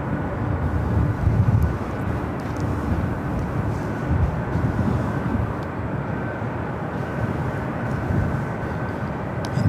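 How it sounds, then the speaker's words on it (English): A Delta 767 jet airliner on approach to land at LAX, a steady broadband roar of jet engines heard from a distance, holding fairly even throughout with a slight swell near the end. "It's a Delta 767, flight 938, heading to JFK, heading down to 24 left"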